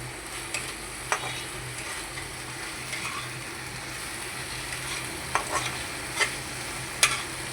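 Onion paste sizzles in hot oil for a potato and bitter gourd curry, a continuous close frying hiss punctuated by irregular clicks and scrapes of stirring in the pan.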